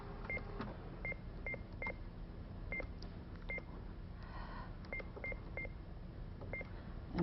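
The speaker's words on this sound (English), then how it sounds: "and then just dial the number." A fax machine dials a phone number, sounding a quick series of short DTMF tone beeps in an uneven rhythm over a steady background hiss, no voices.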